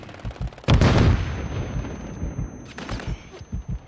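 Gunfire in Call of Duty Modern Warfare III, a heavy close shot or blast with a long booming tail, followed by scattered lighter shots and distant pops spread across a few seconds.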